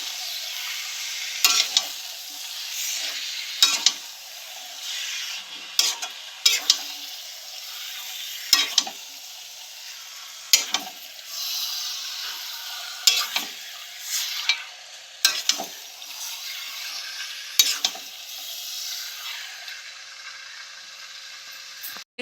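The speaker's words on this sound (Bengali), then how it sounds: "ভালো করে কষিয়ে নেব মাংসটাকে মশলার সাথে।" Chicken stirred and fried with masala spices in a pan gives a steady close sizzle, broken every second or two by sharp scraping clicks of the spoon against the pan, with no voices.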